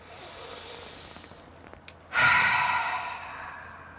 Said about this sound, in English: I'm going to go ahead and take a deep breath here.